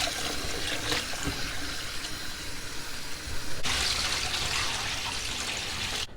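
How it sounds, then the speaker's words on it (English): White rice is washed under cold running water, giving a continuous rushing splash that stays close and fairly loud throughout and brightens partway through. "all I'm doing is washing my rice with some cold water"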